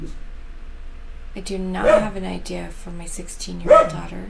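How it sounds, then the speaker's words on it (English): A dog barks twice, about two seconds apart, each a sharp, fairly close bark heard while a person talks steadily over a quiet indoor background. "Sorry about the dog."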